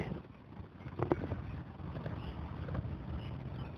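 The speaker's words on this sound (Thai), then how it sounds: "ลมมันแรง" Strong wind gusting across an outdoor fishing pond, a steady broadband rush with a louder buffet just after one second and another near the end, no speech.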